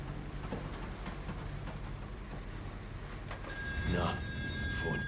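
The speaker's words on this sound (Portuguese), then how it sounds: "atende aí o telefone" Telephone ringing in a video game, a bright electronic ring with sharp tonal harmonics that starts partway through over a steady rumbling background.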